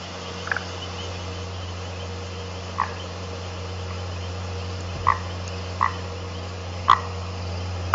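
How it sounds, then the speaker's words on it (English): A southern foam nest frog, Chiromantis xerampelina, gives sparse, isolated clicking croaks spaced a second or two apart over a quiet background with a low steady hum, loudening slightly toward the end. "Southern firm nest frog, Chiromatris xerampelina."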